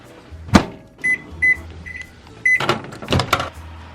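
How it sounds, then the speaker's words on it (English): Microwave oven in use for melting cheese on beef jerky: a door clunk, four evenly spaced beeps from keypad presses, then the door slamming and a start tone, heard up close with no talking. "now I'm gonna go put it in the microwave"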